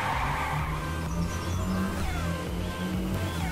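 A high-revving Alfa Romeo race car engine in LittleBigPlanet 3 screams up toward 16,000 RPM while accelerating hard, with rising and falling tones through gear changes and a squeal of tyres, loud and continuous with no talking.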